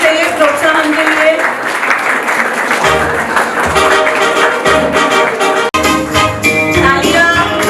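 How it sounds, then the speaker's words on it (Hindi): An audience applauds at a stage event, a loud, sustained burst of clapping from many hands, close and continuous. "तालियां बजती रहनी चाहिए प्रोत्साहन के लिए।"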